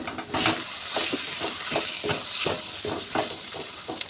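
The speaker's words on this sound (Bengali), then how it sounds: "এবার একটু কষিয়ে নেবো ভালো করে থানকুনি পাতা আর আলু।" Thankuni leaves and potatoes sauté in a pan with a steady sizzle, while a spatula stirs in quick, regular scraping strokes about twice a second, close and clear.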